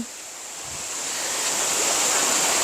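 Water rushing at the Kham Hom waterfall in Sakon Nakhon, a steady broad hiss that swells slightly louder over a couple of seconds, with no voices.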